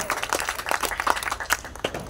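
Audience applauds singers at a live music concert, a dense, steady burst of clapping from many hands, close and lively throughout without a break.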